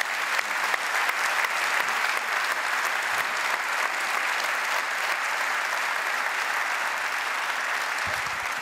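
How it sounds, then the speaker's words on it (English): A large audience at the UEFA Champions League group stage draw gives sustained, even applause for the UEFA Player of the Year, a steady wash of clapping lasting the whole stretch with no pauses. "Another warm round of applause for the UEFA Player of the Year."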